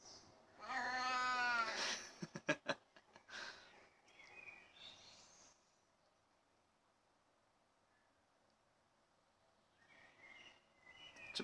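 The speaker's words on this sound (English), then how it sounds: "Such a pretty kitty." A pet cat meows up close, a drawn-out rising cry followed by a few short clicks and chirps, then quiet before soft chirping returns near the end, with no talk.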